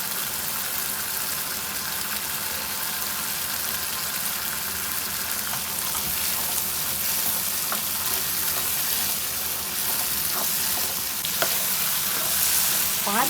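Chickpeas (chana) fry in oil in a pan, a dense even sizzle holding steady throughout, with a few faint stirring scrapes and clicks rising out of it near the end; no voices.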